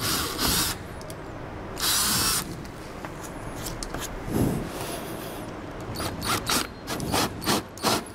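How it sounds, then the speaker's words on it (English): Power drill bursts on a Toyota RAV4 bumper, several short whirring runs, loud and close, with ratcheting clicks and rapid stop-start pulses toward the end. "I managed to drill this hole between this pin and that pin"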